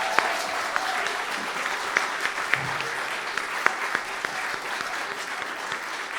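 Audience applause for the teachers at a Forte Festival 2024 concert, a steady, sustained wash of many hands clapping in a hall, with a few sharper individual claps standing out.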